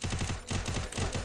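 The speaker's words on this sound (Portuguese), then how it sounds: "Tiro finalizar." Rapid automatic gunfire in a video game comes as dense, repeated loud bursts with a short pause midway, close and continuous.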